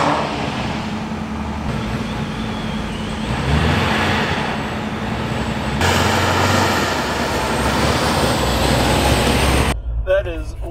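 A 1,500-horsepower Corvette race car rumbles loudly from close by, its engine droning and swelling with a sudden shift in tone partway through, then cutting off, as people talk over it.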